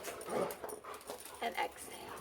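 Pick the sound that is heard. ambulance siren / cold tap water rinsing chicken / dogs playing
dogs playing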